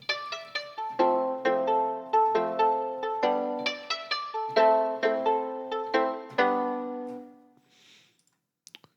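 Guitar through a telephone-sampled preset: a sequence of bright plucked notes with a narrow, phone-like filtered tone, played in a steady rhythm and fading out, followed by a few faint clicks.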